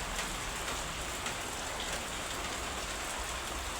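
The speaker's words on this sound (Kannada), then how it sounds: "ಮಳೆ ಫುಲ್ಲು ಜೋರು." Heavy rain pours down steadily, a dense, even hiss of drops close by with no pauses and no voices.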